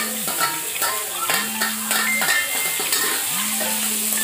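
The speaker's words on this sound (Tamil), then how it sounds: "எல்லா காய்கறியும் போட்டு ஓரளவுக்கு நல்லா வதங்கட்டும்." Potatoes, beans and carrots sautéing in a pan for masala pasta, a steady sizzle and frying crackle with repeated stirring scrapes and a recurring steady hum underneath.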